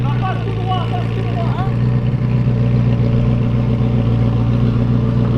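A Ferrari F40 engine running at the Le Mans Classic, a loud steady low drone with some clatter, close by, mixed with crowd noise and a voice talking over it.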